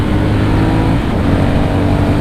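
A motorcycle accelerates hard into a corner with a steady, loud engine roar that holds throughout, close up and without talk.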